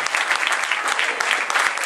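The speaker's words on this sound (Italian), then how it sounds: "non ancora sentito da parte vostra un applauso per questi stupendi attori" An audience at a children's theatre evening applauds young actors with dense, steady clapping that fills the whole moment, close and loud, with faint crowd murmur underneath.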